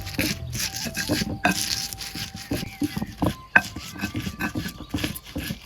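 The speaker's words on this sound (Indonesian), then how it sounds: "Sekarang diulek." Garlic, shallots and small and curly chilies being pounded and ground in a stone mortar for village fried rice: repeated irregular thuds and scraping strokes, close and fairly loud, with some background tones.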